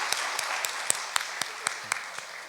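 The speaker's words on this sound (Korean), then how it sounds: "박수를 돌리겠습니다." A church congregation at a Korean worship lecture claps to glorify God, quiet, crisp claps that land in an even, regular rhythm over a soft room background.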